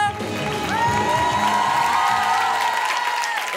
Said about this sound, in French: Vous pouvez applaudir, mais oui!